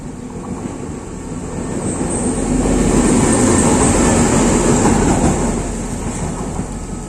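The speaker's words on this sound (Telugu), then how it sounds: "ఇది బోగియే, ట్రైన్ కాదు, జస్ట్ సారీ వ్యాగన్ ఇది వ్యాగన్ వస్తుంది" A railway wagon rolls past at the Malaysia–Thailand land border, a steady broadband rumble that swells toward the middle and eases off, with no voices.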